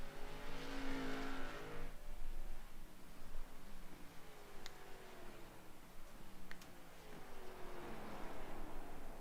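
A race car engine in a racing video game at The Glen roars steadily throughout, its pitch sweeping upward as it accelerates, with a sharper rev climbing again near the end.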